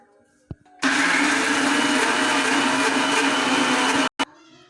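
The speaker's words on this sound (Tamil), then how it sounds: "இதை இப்போ குறப்பாக அரைச்சி எடுத்துக்குவோம். இதை அரைச்சிட்டு வந்துடுறேன்." A mixer grinder grinding soaked chana dal with salt roars steadily at close range for about three seconds, starting abruptly and cutting off, with brief clicks before and after.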